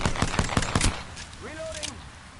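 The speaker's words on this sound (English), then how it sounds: "Shots fired." A burst of rapid gunshots in a first-person shooter video game, a quick string of sharp cracks up front that stops after about a second, followed by a faint whistling tone.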